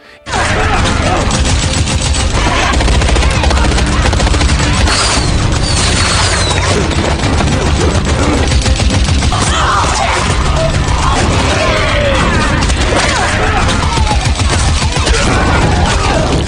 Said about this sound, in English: dragged out a hand-cranked Gatling gun and unleashed a storm of bullets